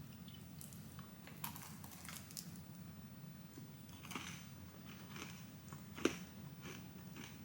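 Someone bites into and chews crunchy Aldi tiramisu caramel clusters with cookie and dark chocolate, faint close crunches and clicks scattered over a low steady background hum.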